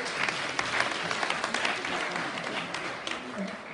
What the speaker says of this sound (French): On acclame la famille Caleb